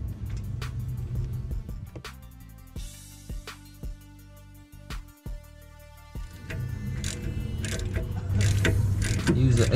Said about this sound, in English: The next step is to use an 18 millimeter socket and a breaker bar to loosen the two bolts on